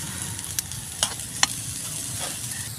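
Shellfish sisig fries on a hot sizzling plate with a steady crackling hiss, broken by a few sharp stirring clicks, close up and with no voices.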